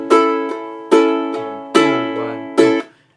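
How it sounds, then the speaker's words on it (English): Two-note guitar figure played four times, the second note of each pair hit harder, with a steady rhythm of paired attacks ringing close and clear. "So if I play 2 notes in succession and accented the second one, it will sound like this."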